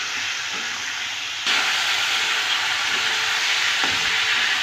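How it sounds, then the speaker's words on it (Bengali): Fried potatoes, rohu fish, tomato and chili powder hiss and sizzle steadily in a hot pan while being stirred together, the sound swelling louder partway through. "এবার সব একসঙ্গে ভালো করে কষিয়ে নেব।"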